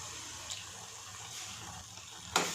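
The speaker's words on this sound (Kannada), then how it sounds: "ಅದಕ್ಕೋಸ್ಕರ ಇನ್ನೂ ಸ್ವಲ್ಪ ನೀರು ಮಿಕ್ಸ್ ಮಾಡ್ಕೊತಾ ಇದ್ದೀನಿ" Water pours into a pan of pav bhaji (potato and vegetable mash): a soft, steady wash of liquid noise, faint and fairly close, ending in a brief louder splash near the end.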